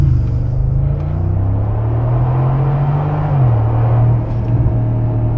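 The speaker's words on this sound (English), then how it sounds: "that exhaust and engine note does sound really good on this twin turbo V8" The twin-turbo V8 of a 2023 Mercedes G-Wagon 550 gives a steady, deep exhaust and engine drone while driving on the road, with a slight pitch shift midway and no talking.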